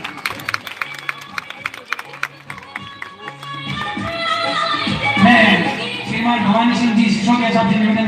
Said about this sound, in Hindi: तालियां हो, तालियां।